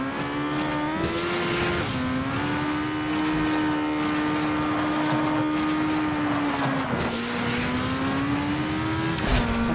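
A car accelerates in the racing game Asphalt 9 Legends, its engine holding a loud, steady droning whine that shifts in pitch with gear changes, close and continuous throughout.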